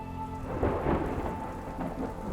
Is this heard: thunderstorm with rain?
yes